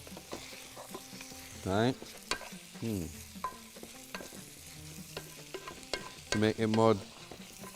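Meat and onions stirred in a pot for Bahraini saloonat laham, with scraping and clattering strokes over a low sizzle, several louder stirring bursts, and brief talk in between.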